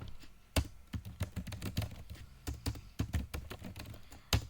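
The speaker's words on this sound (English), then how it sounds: "I'm typing few letter words here." Fingers type letters on a computer keyboard, a close, uneven run of crisp key clicks with short pauses and a couple of sharper taps standing out.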